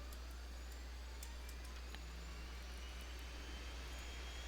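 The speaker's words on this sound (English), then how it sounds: "And the engine comes alive." Pilatus PC-6C turboprop engine running in the X-Plane flight simulator, a steady, even whine and roar holding at a constant level throughout, with no voices.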